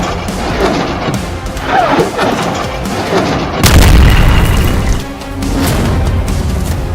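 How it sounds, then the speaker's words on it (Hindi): Explosions from a Hezbollah rocket attack on Israel: loud, close booms and crashing blasts with heavy rumbling, one especially strong impact midway, over continuous noisy background. "हिजबुल्लाह ने सैकड़ों रॉकेट से इजरायल पर भीषण हमला कर दिया है।"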